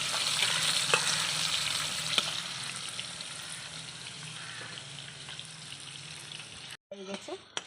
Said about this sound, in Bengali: এই যে মাছটা আমার ভাজা হয়ে গেছে, এবার মাছটাকে আমি উল্টিয়ে নিই।